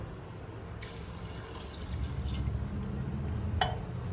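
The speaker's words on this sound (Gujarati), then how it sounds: "એમાં થોડું પાણી નાખીએ" Water pouring into a pressure cooker holding peas and potatoes, a splashing rush that starts suddenly and runs steadily, with a brief clink near the end.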